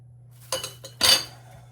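A spoon scrapes around a bowl of soft milk-based Easter bread dough and is lifted out, making a few short, close clinks and scrapes with no talking.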